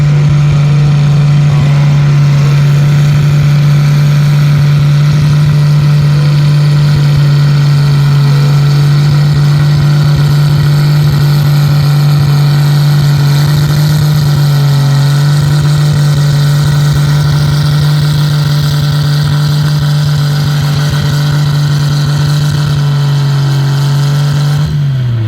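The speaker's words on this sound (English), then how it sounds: "Up next on the youth tractor is Lucas Best on Toro." A youth-class tractor in a tractor pull, its engine roaring at a loud, steady, heavy drone for the whole run, close and alone, with a slight wavering in pitch before it cuts off at the end.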